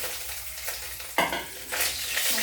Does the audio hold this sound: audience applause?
no